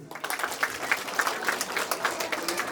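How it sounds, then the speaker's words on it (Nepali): Audience applause at a charity visit with children, steady scattered clapping from a crowd throughout, fairly close and moderately loud. "उहाँलाई एकछिन ताली बजाइदिनुहोस्"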